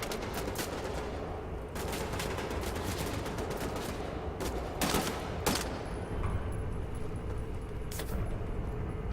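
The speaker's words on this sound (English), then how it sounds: "Who's shooting at who from where?" Distant gunfire across a courtyard in the shooter game Wolfenstein: The New Order, scattered sharp cracks and bursts over a dense, noisy background of battle.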